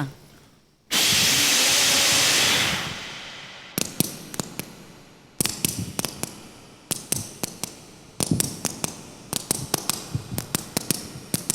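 A voice imitates a running train: a long breathy hiss like escaping steam, then rapid rhythmic puffs and clicks in bursts, accelerating like wheels on rails.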